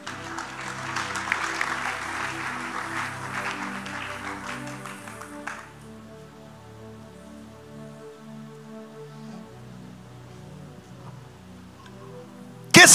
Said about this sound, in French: On les acclame très fort, venez.